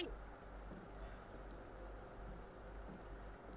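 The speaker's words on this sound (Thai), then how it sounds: "อุ้ยฝนตก" Steady, even hiss of rain falling in the Roblox horror game Forsaken, a constant wash of patter that holds at the same level throughout with no voices.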